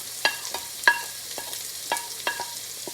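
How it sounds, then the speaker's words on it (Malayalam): Garlic, ginger, chili and onion sautéing in a pan for spinach thoran, a soft sizzle beneath a spatula scraping and tapping the pan in irregular strokes. "സവോള ഇതെല്ലാം കൂടെ നമുക്ക് ഒന്നിച്ച് ഇട്ട് കൊടുത്തിട്ട് ഒന്ന് വഴറ്റാം."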